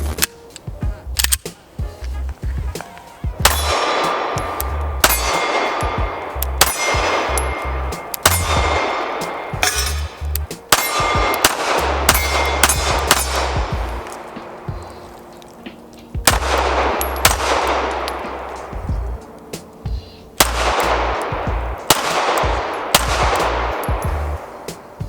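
A CZ P-10 C pistol fires a long series of loud, sharp shots at close range, coming in quick strings separated by brief pauses, with each crack ringing out afterward.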